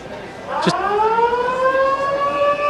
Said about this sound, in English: And there goes the siren for half-time.